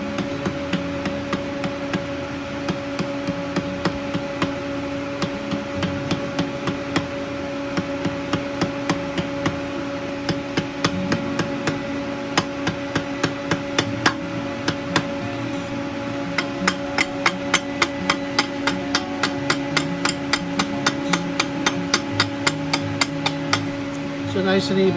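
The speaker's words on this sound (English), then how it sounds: "you can hammer right on that crease" Rapid metallic hammer blows on a tube crease during tube forging, a steady stream of sharp ringing strikes growing denser and louder, with a constant hum underneath and occasional talk.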